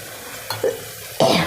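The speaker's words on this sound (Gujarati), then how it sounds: "હવે આ બધું આપણે મિક્સ કરી લઈશું" Chutney and masala for an instant mung bean pulao are stirred in a pan, with a couple of scraping strokes and then a louder sizzling swirl of the spoon, close by.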